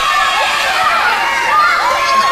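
A wrestling crowd cheers and shouts in a dense, high-pitched roar of many voices, steady and loud throughout with no commentary over it.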